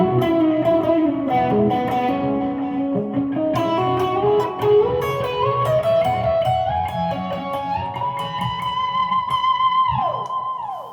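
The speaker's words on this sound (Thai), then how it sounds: "ใส่รีเวิร์บหน่อยอ่ะ" Electric guitar through a Boss ME-80 and a Maxkie Cabsim pedal with reverb added, a flowing melodic phrase with washy sustained notes that ends in a bending, fading tail, played alone and up close.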